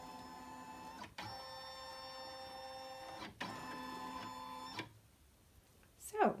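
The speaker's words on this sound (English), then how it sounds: "it will tell me that the frame is going to move so that it can scan what's in the hoop" A sewing-embroidery machine moves its frame to scan the hoop, producing steady whirring motor tones in long passes broken by brief clicks, then going quiet before a short final whir.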